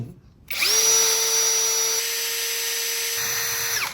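A MASARU interchangeable-head power drill spins up sharply and whines at a steady high pitch for a few seconds, loud and close, before winding down.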